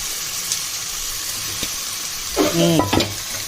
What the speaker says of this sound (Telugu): చికెన్ వేసి ఒక్కసారి కలుపుదాం.